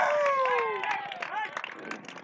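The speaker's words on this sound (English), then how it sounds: "You can hear the Columbus crowd appreciates that one." A crowd at a high school baseball game in Columbus applauds a pickoff, clapping faintly in the background beneath a commentator's voice.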